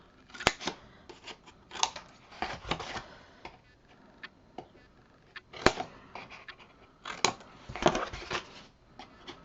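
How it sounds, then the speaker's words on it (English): Sharp scissor snips cutting corners from folded paper for a camping-themed craft planner, coming in close, distinct clusters with short pauses between cuts and no talking. "we're going to cut out those corners"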